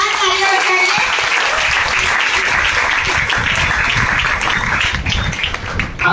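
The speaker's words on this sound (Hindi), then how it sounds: "आप सभी लोग एक बार इनके लिए जोरदार तालियां बजाइए" An indoor audience applauding loudly, thick sustained clapping from many hands that stays close and strong throughout before easing slightly near the end.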